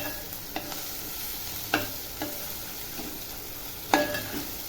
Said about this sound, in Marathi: आता ह्याला छान असं मिक्स करून घेते बघू शकता तुम्ही मसाले किती छान असे परतलेले आहेत